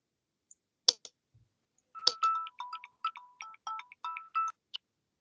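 Telephone ringtone sounding during an online class: a short electronic chime, a pause, then a repeating run of bright beeping tones for about three seconds, fairly clear against a quiet background with no talking.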